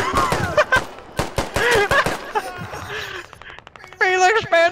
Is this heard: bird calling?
no